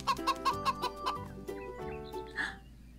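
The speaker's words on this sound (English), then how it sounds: "A chicken goes cluck, cluck, cluck, cluck, cluck, cluck" Chicken clucking on a farm, a run of about six short rhythmic clucks followed by a few softer, irregular ones, heard close and alone with no talk.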